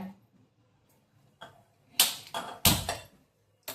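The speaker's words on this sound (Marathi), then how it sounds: "आता आपण प्रथम गॅस पेटवूया." A kitchen gas stove being lit while preparing jowar flour dough, heard as a few sharp clicks and ignition bursts in close succession, then a short final click, with no talk over them.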